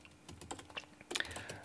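A short run of keystrokes on a computer keyboard while entering a Linux terminal command, about a dozen close, crisp clicks at an uneven pace, followed by a slightly louder cluster of taps.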